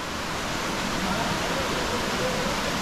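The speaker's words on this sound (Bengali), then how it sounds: "ফাইনালি আমরা তুর্গা ফলসে নেমেছি" Turga Falls in Purulia pours a steady, broadband hiss of falling water, loud and unbroken throughout, heard close with no distinct pauses.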